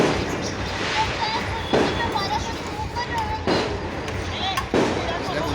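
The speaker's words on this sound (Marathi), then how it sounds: "फटाके फुटून राहिले होते." Firecrackers burst a few times at a distance, with sharp isolated bangs rising over continuous talk and background chatter.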